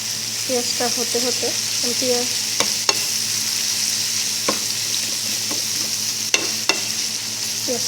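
Onions fry in oil alongside fish, giving a continuous close sizzling hiss with sharp stirring clicks and spatula scrapes, and brief faint voice-like murmurs early on.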